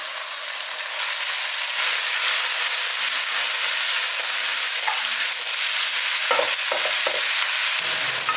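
Rice cakes with shiitake mushrooms and cabbage stir-fry in a hot wok with a loud, steady, hissing sizzle, and a few faint clinks of the spatula near the end, no voices.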